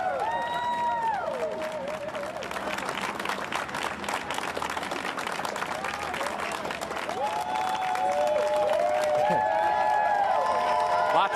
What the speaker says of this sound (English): Lots of cheering.